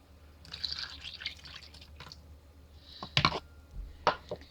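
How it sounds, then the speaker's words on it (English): Milk poured into a bowl of apple fritter batter in a home kitchen, a few short splashy pours and drips close to the microphone, quiet between bursts, with no talking. "we can go ahead and pour in our 1 cup of milk."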